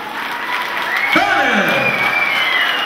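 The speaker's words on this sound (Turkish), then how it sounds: "Buyurun beyi geldi alkışlama" A wedding crowd at the bride's house claps steadily to welcome the groom's arrival, the applause building and sustained, with talk and a sweeping tonal sound over it.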